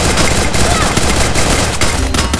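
Rapid automatic gunfire from the Free Fire battle royale mobile game, a loud, dense and continuous barrage of shots filling the whole stretch without pause.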